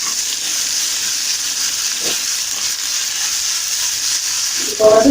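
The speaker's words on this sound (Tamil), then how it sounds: "இது ஒரு 2 minutes இஞ்சி பூண்டு கொஞ்சம் ஸ்மெல் போட மட்டும் வதக்கிட்டு" Ginger garlic paste sautés in a pan, giving a steady, even sizzle and hiss that carries through without pause, close and moderately loud, with a brief clatter near the end.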